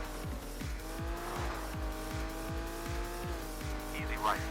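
A Suzuki Escudo rally car in the Old School Rally video game, its engine revving hard with a rapid series of gear shifts and tyre squeal under a steady drone, loud and close, without speech.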